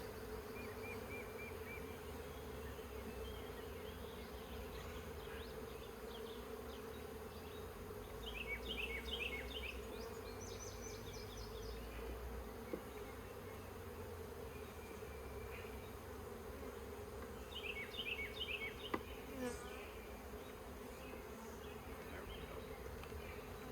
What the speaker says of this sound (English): Get out from underneath there, bees.